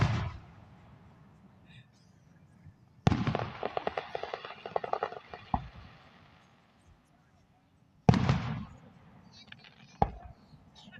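Fireworks burst during a display finale in three loud separate volleys, each a sharp boom followed by crackling and popping that fades out, with a last lone bang near the end.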